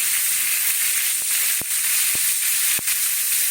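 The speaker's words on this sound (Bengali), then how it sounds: "এর মধ্যে দিয়ে তেলটাও ঢুকবে সুন্দর ভাজা হবে" Scored pointed gourd (potol) frying in hot oil, a loud continuous close hiss and sizzle with a few faint spatters and pan taps, no voices.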